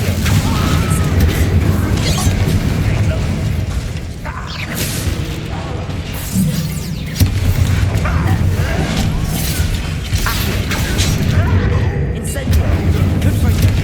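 Fire spell cast in the Hogwarts Legacy video game, heard as loud continuous combat effects with booming bursts and mechanical clatter, a voice speaking briefly over the din.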